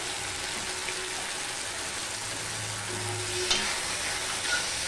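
Boiled spice mix and radish go into softened tomatoes frying in a pan for urad dal, giving a steady close sizzle with occasional stirring scrapes and a brief clatter.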